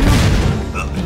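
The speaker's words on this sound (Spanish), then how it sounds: "¿Qué demonios era eso? Artillería." Artillery fire in the video game Uncharted: Drake's Fortune, a single loud, heavy boom with a rumbling thud that fades over about a second.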